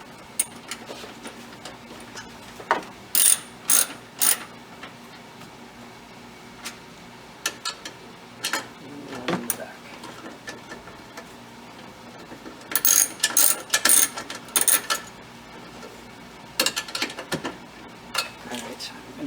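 A ratchet wrench clicks in short bursts while tightening 10 mm bolts on a 2014 Prius V hybrid battery, close and crisp, with pauses between rapid runs of pawl clicks.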